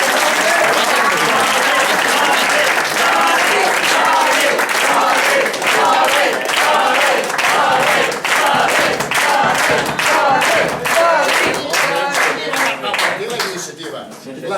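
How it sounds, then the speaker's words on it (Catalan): Loud, sustained applause fills a room during a community dinner at a Catalan cultural centre in Basel, Switzerland. Many hands clap steadily together with some cheering, and the clapping thins out toward the end. "jo l'únic que vull que doneu un fort aplaudiment a en Jordi"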